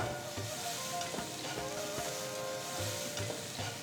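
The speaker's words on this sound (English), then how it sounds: "Let's saute the grated amla for about 2 to 3 minutes." Grated amla sauteing with fresh curry leaves in a hot pan, a dense, even sizzle with soft rhythmic stirring scrapes, close and continuous with no voices.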